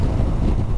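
Steady wind roars and buffets the microphone of a motorcycle cruising Portugal's Atlantic Highway, a loud, continuous, low-heavy rush with no gaps.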